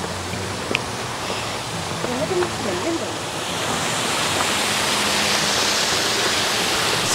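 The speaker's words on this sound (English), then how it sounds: "This is the waterfall." A small waterfall with low flow in a park in Richardson or Plano, Texas, gives a steady broadband rush that swells louder toward the end, with people talking faintly under it early on.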